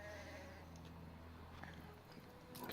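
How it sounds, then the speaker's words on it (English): Sheep bleating in the game Anno 1800, soft and somewhat distant bleats over a low ambient farm backdrop, ending with a brief louder rustle. "Get some sheep"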